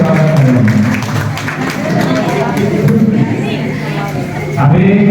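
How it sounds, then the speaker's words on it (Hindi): Loud applause from an audience welcoming a guest at a public event, dense continuous clapping with crowd noise and a voice talking over it throughout. "माननीय व्यक्ति के जोरदार से ताली से स्वागत करेंगे"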